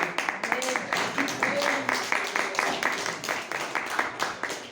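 A church congregation gives a strong round of applause, a dense run of rhythmic claps that keeps going under voices and background sound at moderate loudness.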